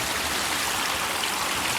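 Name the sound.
running water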